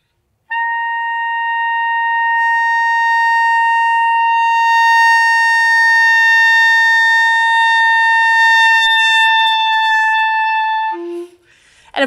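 A clarinet sustains a single steady high C for about ten seconds, one long unbroken note with a bright, whistle-like pure tone, heard alone and close up, ending with a brief drop-off.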